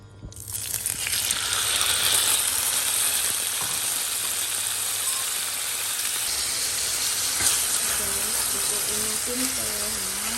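Marinated Korean spicy pork bulgogi hits a pan of hot oil with a sudden loud sizzle that settles into a steady, dense hiss and crackle of frying, while a voice talks faintly underneath toward the end.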